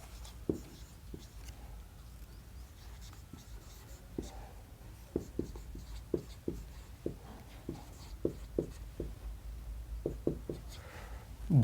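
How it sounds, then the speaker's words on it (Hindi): Pen writing out a website address on paper, a quiet series of short scratchy strokes and taps in irregular bursts, close and faint with no talk. "या एक यहाँ पर लिख देता हूँ"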